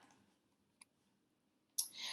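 A single faint mouse click on a sign-up button, heard once as a brief, quiet tick in a mostly silent stretch, followed by the start of speech.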